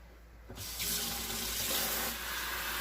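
Tap water gushing into a pot in a kitchen sink to rinse it out, a steady close rush of running water that swells after a brief quiet start and continues to the end.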